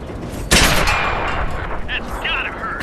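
Tank cannon fire from a Panzer III medium tank in World of Tanks: one loud, sharp blast hits about half a second in, then a long rumbling decay with faint mechanical clanks of reloading behind it.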